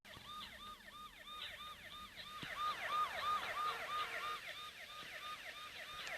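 Police siren in a Vegas crime simulator video game, a repeating wailing sweep that rises and falls steadily for several seconds, fairly clear with no talk.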